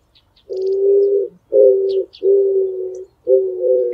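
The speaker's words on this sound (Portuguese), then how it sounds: "E essa ave tem de monte por aqui, a voante" Four hollow, drawn-out coos from an eared dove in steady succession, each lasting about a second with brief gaps, loud and close against a quiet background.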